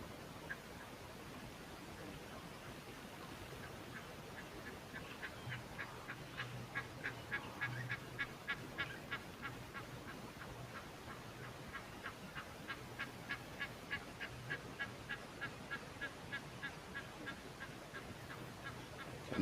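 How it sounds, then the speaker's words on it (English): Egyptian geese honk at a waterhole in a long, rhythmic series of harsh calls, faint and somewhat distant over steady background hiss. "You can always hear those Egyptian geese."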